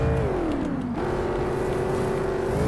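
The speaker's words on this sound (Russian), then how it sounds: "Очень быстрая машина." A Mercedes AMG GT63S drives fast, its engine holding a steady drone that dips in pitch as it shifts, then settles into an even, sustained note. Heard from inside the car with no talking.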